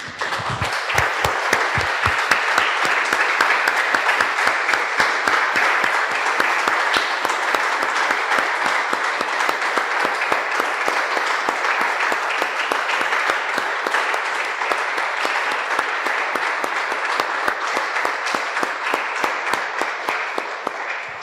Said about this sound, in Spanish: Damos un aplauso, hermanos, al Señor.